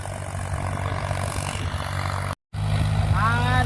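A tractor engine drones loudly and steadily close by, with a low throbbing hum that cuts out for a moment and then returns, and voices are faintly heard over it.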